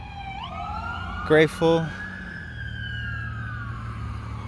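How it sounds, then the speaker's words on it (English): Two ambulance sirens pass along a street in Robbinsville, New Jersey, rising and sweeping by with a loud, brief burst of noise midway, while someone talks over the steady traffic hum. "Ambulances running down the street."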